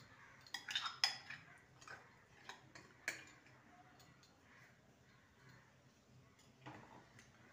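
Small food-filled bowls are tapped against a kitchen surface before steaming, giving a few quiet, sharp knocks spaced irregularly, then near silence.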